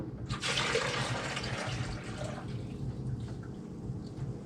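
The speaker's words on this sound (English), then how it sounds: "I keep my empty coffee jugs. This way here, I can go ahead and pour it in here." Cooking grease poured into an empty coffee jug, a liquid splash and gurgle that starts abruptly, stays strong for a couple of seconds, then thins to a quieter trickle.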